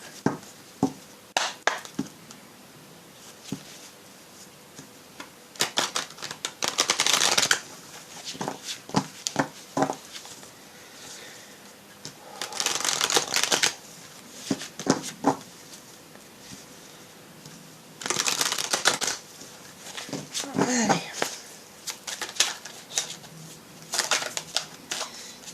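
A deck of oracle cards (Oracle des murmures) being shuffled close up, with bursts of riffling and sliding interspersed with light taps and handling between several shuffling runs.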